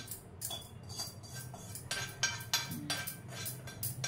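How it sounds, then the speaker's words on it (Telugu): Hot tempering poured from a small pan into a dish of cooled food, with steel utensils clinking and scraping in a quick run of close, sharp taps over a low background hum. "ఇది ఇందులో పోస్తాము, పోపు అంతా ఇందులోకి వేస్తున్నాను"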